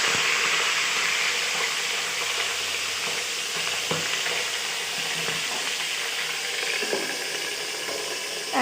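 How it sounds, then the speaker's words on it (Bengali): Meat frying in oil in a home kitchen, making a loud, constant crackling sizzle close by, broken by occasional stirring scrapes and spattering pops. No one talks. "এখানে আমি এখন এই একই তেলে আমি এই মাংসটাও ভেজে নিব"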